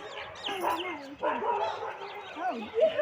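A dog at a family home in a Gujarati village lets out quick, fairly faint yipping barks and whimpers across a few seconds, with a soft background murmur.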